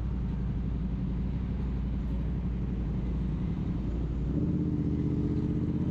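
Dense, heavy early-morning road traffic rumbles around a Honda Click 125 scooter, a continuous low engine drone that deepens and thickens near the end.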